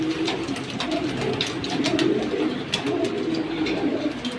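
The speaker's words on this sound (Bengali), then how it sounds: "এই হলো আরেক পেয়ার মিলিটারি কবুতর।" Military breed pigeons cooing in a loft, a continuous overlapping murmur of low throaty coos from several birds close by, steady and fairly loud with no talk.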